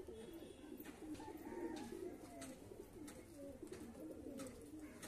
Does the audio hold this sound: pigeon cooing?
yes